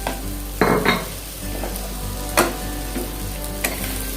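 Fried eggs go into an egg curry gravy in a pan and are gently stirred, with a soft continuous sizzle and a few brief scraping clatters of the spoon, no voices.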